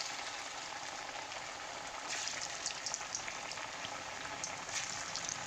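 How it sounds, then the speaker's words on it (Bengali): Chira and jaggery pitha cakes frying together in white oil, a steady close crackling sizzle throughout with denser bursts of bubbling partway through. "তো আমি এখানে একসাথে সব কটি পিঠাই ভেজে নেব।"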